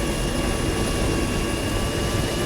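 Helicopter in the ArmA 3 video game, a steady, loud, continuous rotor and engine drone with no pauses, heard close and alone without talk.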